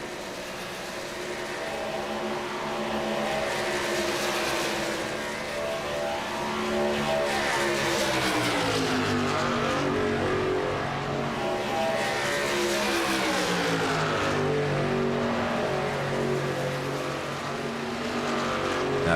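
Race cars lapping a track on warm-up laps before a night of racing, engines droning loudly and steadily with rising and falling pitch as they pass, heard from a distance with no talk.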